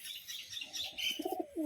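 Pigeons, including biscuit-coloured Nichey Baji, Jag Madras and racer breeds, coo softly with a few low throaty burbles near the end, faint and close, without talk.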